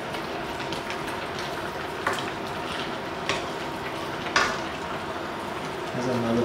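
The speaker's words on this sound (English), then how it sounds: "We'll mix all the sauce into the meat." A spoon stirs sauce and red bean curd through oxtail and lamb stew meat in a hot pot, with steady sizzling and occasional scraping knocks against the pan, fairly close, and someone speaking briefly.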